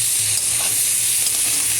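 Oil sizzles loudly and continuously as crab fries in a pan, close up, with faint stirring scrapes.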